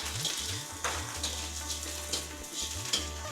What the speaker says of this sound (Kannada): ಇವಾಗ ಹಸಿಮೆಣಸು ಹಾಕ್ತಾ ಇದ್ದೀನಿ. ಅದ್ರ ಜೊತೆಯಲ್ಲೇ ಕರಿಬೇವು.